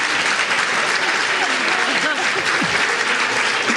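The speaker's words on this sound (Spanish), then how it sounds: "yo sé que están aplaudiéndolas a ellas" A large indoor audience at a talk applauds steadily, the dense clapping loud and sustained for several seconds without a break, with a faint voice underneath.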